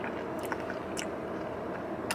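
Someone chews a super crunchy cheese snack up close, with a few quiet, sharp crunches spaced out against a soft, wet chewing background.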